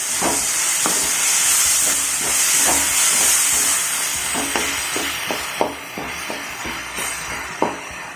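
Crushed tomatoes sauté into a paste in a pan for a Kerala style fish fry cooked in banana leaf, giving a loud, steady hiss of steam broken by regular clinks and scrapes of stirring.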